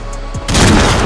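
Gunfire in the video game GTA IV, a loud burst of rapid shots erupting suddenly after a moment of quieter background, dense and booming to the end.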